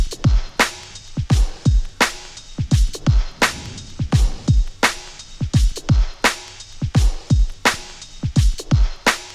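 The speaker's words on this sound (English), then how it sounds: "This is actually your typical boom bap beat in my opinion" Boom bap drum beat built from a sampled break, punchy kicks and snares in a steady loud loop, with a quick triplet kick on the turnaround.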